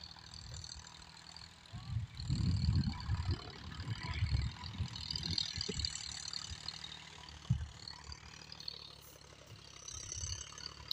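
A tractor pulling a rotavator runs steadily at close range, its diesel engine a low, rumbling drone that swells and eases over about eleven seconds.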